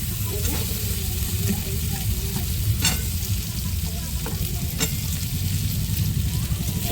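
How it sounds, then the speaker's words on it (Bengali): Fried potatoes are stirred into a sizzling paneer masala in a pan, giving a continuous frying hiss with a few sharp scrapes and clinks of the spatula, close and without talk. "দিয়ে ভালো করে একটু নাড়াচাড়া দিয়ে দেবো"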